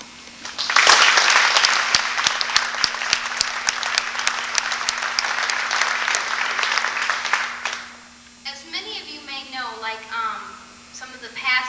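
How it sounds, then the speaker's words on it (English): Banquet guests give a round of applause for the high school FFA classes, a loud, dense burst of clapping that runs for several seconds before fading, after which someone speaks over a faint electrical hum. "the freshman class, the sophomore class, the junior class, and the senior class deserve a round of applause"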